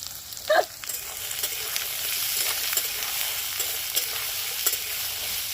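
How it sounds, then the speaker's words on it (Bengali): Chopped radish and potato fry in a pan with a close, continuous sizzle, marked by a clatter of stirring at the start and light scraping taps afterwards. "আলু আর মূলোটা খুব সুন্দর ভাজা হয়ে গেছে"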